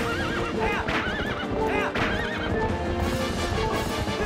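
A horse in the GameCube game The Legend of Zelda: Twilight Princess neighs in several warbling whinnies over rapid clip-clopping hooves, with game background sound underneath.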